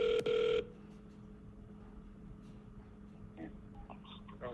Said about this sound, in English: I don't know if I can dial Ireland.